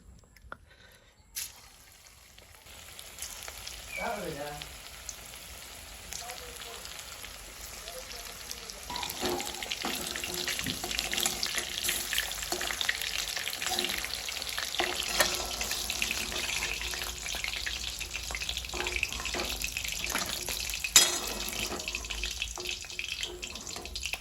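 Chicken pakora sizzles in hot oil in a kadai. After a quiet start, a broad, steady crackling hiss builds and holds at moderate loudness throughout, with scattered pops.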